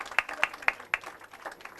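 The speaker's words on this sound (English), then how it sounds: "we would do that with a huge round of applause for the protagonist of the evening" Scattered, faint hand claps ring out from an audience at a book launch event, a handful of distinct sharp claps spaced unevenly over a low background murmur.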